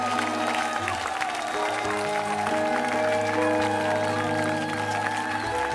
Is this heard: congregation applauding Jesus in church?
yes